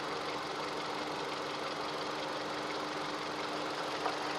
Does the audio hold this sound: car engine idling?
yes